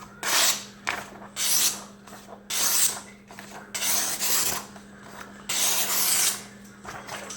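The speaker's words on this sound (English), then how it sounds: "today I'm going to be sharpening a Kershaw Leek or a Kin Onion design." A Kershaw Leek knife blade is stroked across a Smith's Tri-Hone sharpening stone, giving close, rhythmic gritty rasps in alternating passes with a low background hum.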